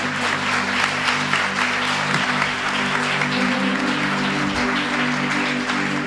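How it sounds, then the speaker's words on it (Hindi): Loud, sustained applause from a congregation at a worship and healing prayer service fills the space with dense, continuous clapping, while a steady low tone hums underneath throughout. "जोरदार तालियां बजाएं, प्रभु को धन्यवाद दें"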